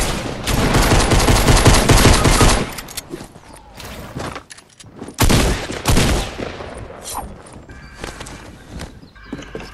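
Rapid video game gunfire in a team shooter match, loud bursts of automatic fire for the first few seconds, then scattered shots and footsteps amid other game effects.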